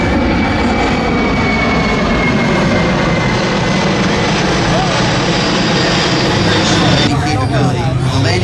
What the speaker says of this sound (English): Look as the plane appears to hover over the runway.